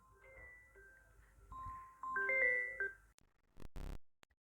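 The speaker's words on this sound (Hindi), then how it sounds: "सॉरी वो फोन आ गया था।" A phone ringtone plays a tonal electronic melody of several short notes, fairly quiet, then stops, followed by a few brief clicks and a louder burst of noise.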